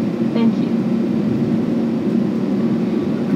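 Jet engines of an ANA airliner spool up for takeoff from Haneda, heard from inside the cabin as a loud, steady low roar that holds throughout with no talk.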